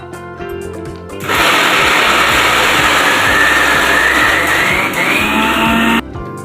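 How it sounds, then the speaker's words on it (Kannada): After a brief lower hum, a mixer grinder grinding chutney with chili powder and a little water roars loudly at high speed for several seconds, its pitch rising slightly, then cuts off abruptly. "ನಾನೀಗ ಸ್ವಲ್ಪ ನೀರು ಹಾಕಿ ರುಬ್ಬಿದ್ದೀನಿ"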